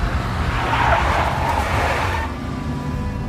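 A big black Mercedes in Max Payne skids with a loud, sustained tire squeal and engine roar, close and continuous before easing off near the end.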